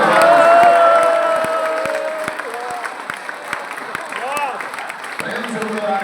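A crowd of pilgrims at a devotional gathering near Nandgaon, Barsana and Vrindavan claps together, a loud, steady patter of hands that gradually softens, with voices and scattered calls mixed in.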